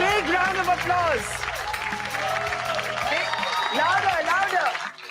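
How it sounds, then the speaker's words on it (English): An audience at an award presentation breaks into sustained applause, clapping and cheering steadily at full volume throughout, with a few scattered shouts rising over the crowd. "Can we have a big round of applause?"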